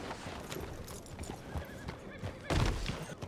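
In the video game Red Dead Redemption 2, a horse whinnies and snorts amid clip-clopping hooves at moderate distance, and a louder stamp comes near the end.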